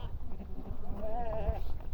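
A sheep from a flock up for sale lets out a single wavering bleat at moderate distance, brief and clear above a low, steady rumble of background noise.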